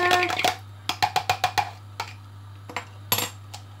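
A utensil clinks and taps against a bowl in quick rhythmic strokes, mixing eggs, followed by a few scattered knocks and scrapes, up close with no talking.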